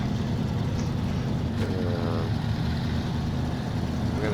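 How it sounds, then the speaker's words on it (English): Truck engine in the SnowRunner video game running steadily, a continuous low engine drone with a faint mechanical whine partway through. "Start our engine"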